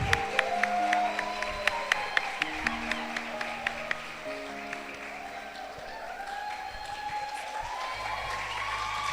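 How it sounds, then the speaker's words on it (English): Audience applause for a graduating class of 29 at a secondary school graduation ceremony, a steady wash of clapping with some cheering that carries on for the whole stretch, with musical tones and a low hum underneath. "Let's give them a tremendous round of applause."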